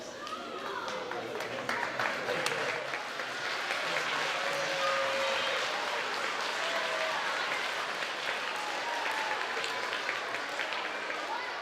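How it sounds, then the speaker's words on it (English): A school assembly's whole student body and teachers applauding a student, a broad, sustained roar of clapping from a large crowd that holds steady throughout, with faint voices mixed in. "not only did the whole student body clap for him"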